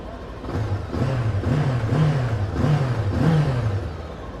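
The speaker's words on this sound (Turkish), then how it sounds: "Şimdi çalıştıralım. Bir sesini duyalım. Çift silindir." A 2022 Jawa RVM 500 twin-cylinder motorcycle idling and revving at a motorcycle show in Istanbul, with a low throbbing exhaust note rising and falling in several repeated throttle blips, close and fairly loud, no speech.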